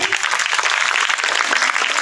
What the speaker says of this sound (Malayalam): എല്ലാ ബന്ധുപത്രാദികൾക്കും ഒരു കയ്യടി കൊടുക്കാം